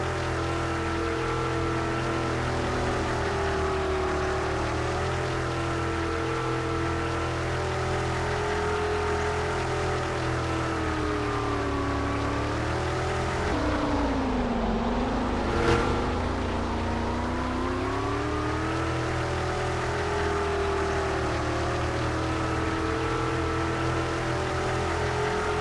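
A car drives on dirt in the Roblox video game, its engine droning steadily with pitch rising and falling as it revs, including one dip and surge midway, continuous and loud throughout.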